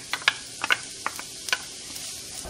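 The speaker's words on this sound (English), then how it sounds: "my onions have been cooking for about 3 minutes" Chopped onion fries in olive oil in a pan, giving soft crackles and irregular small pops and ticks over a low sizzle, close up and fairly quiet, with no voices.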